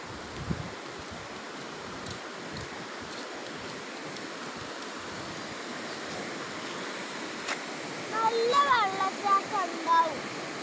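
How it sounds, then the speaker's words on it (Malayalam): Rushing water of the Karinkappara waterfall makes a steady broadband roar, close by and continuous, with brief birdlike chirps and a few louder splashes near the end. "അവിടെയാണ് വെള്ളച്ചാട്ടം താഴേക്ക് പോകുന്നത്"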